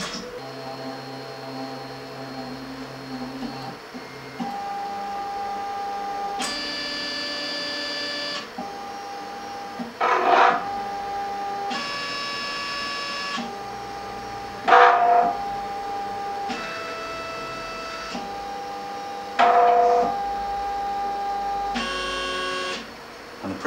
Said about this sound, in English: every time you turn the printer on, it goes through its self-leveling routine